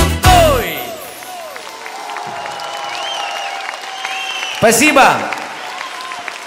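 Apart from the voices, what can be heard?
audience applause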